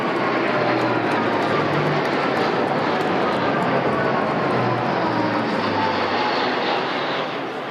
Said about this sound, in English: an A400M Atlas from the Royal Air Force coming down following the line of flight established by that Second World War veteran